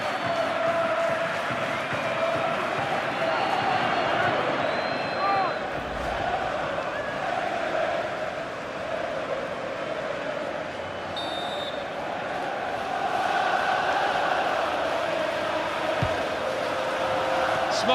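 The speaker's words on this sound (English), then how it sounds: "Oh, the crowd love that, you know." A simulated stadium crowd roars steadily during a Champions League quarter-final match in FIFA 15, a dense continuous wash of cheering with a commentator speaking over it.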